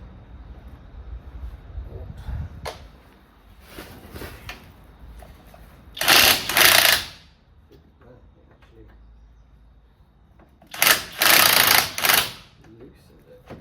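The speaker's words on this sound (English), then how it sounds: "Put the impact gun on this." An impact gun loosens a strut mount nut on a VW Golf MK2 in two loud, harsh rattling bursts a few seconds apart, with quieter workshop noise and voices in between.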